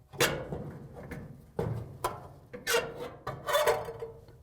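A Samsung DC31-00055G washer drive motor is worked up out of its motor mount, with its shaft drawn back from the blower housing, giving several short scraping, knocking bumps that come close and spaced unevenly.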